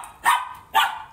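Two short, sharp barks from dogs playing and chasing each other, about half a second apart, close and fairly loud, with quiet in between.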